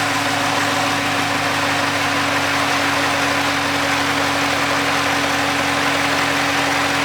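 Chevrolet Camaro SS V8 idles smoothly just after a tune-up, a loud, steady, close engine rumble with a constant hum and no voices.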